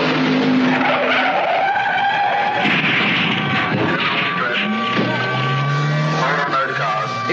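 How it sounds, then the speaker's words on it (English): A blown-engine dragster skids during a crash on a drag strip, loud screeching tire noise and engine roar blending into a chaotic, sustained smear with sliding pitch sweeps near the end. "Roland Pratt got out of this accident with only bad bruises, even though the car was a write-off."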